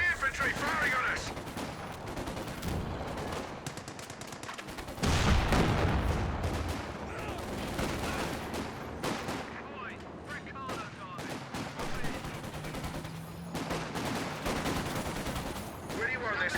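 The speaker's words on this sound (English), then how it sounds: "Enemy infantry firing on us." Dense infantry small-arms gunfire in the World War II strategy game Company of Heroes 2, steady rattling bursts and cracks throughout with a heavy blast near the five-second mark, under battlefield noise and faint game voices.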